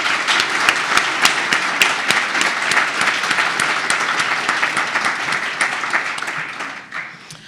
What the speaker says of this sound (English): let's congratulate them with a round of applause